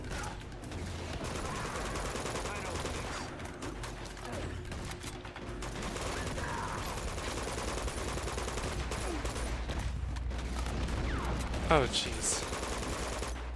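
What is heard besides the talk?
gunfire in video game Uncharted 2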